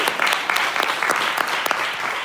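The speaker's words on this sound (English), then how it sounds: "Round of applause for them" Audience at a poetry evening with three poets laureate claps warmly, a close, steady patter of many hands with distinct individual claps standing out throughout.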